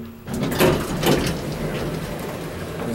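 A 1960s hydraulic elevator's sliding door rumbles and clanks through its travel, with two heavier thumps early on followed by a sustained mechanical whir, fairly near and loud.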